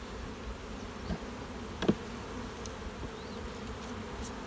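Honey bees hum in a faint, steady drone around an apiary while overwintered nucs are split, with a few brief louder buzzes as bees pass near.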